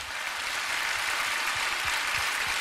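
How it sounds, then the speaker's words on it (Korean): A church congregation claps before a sermon: a continuous, even wash of many hands clapping, steady and moderately loud for the whole stretch. "박수 한번 치고 설교도 할까요?"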